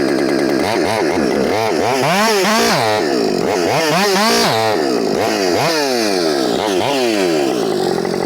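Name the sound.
Husqvarna 562xp chainsaw cutting through knots in wood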